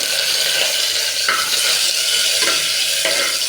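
Curry leaves dropped into hot oil with whole dried chilies crackle and sizzle steadily while a utensil stirs and scrapes the pan, close and continuous with no voices.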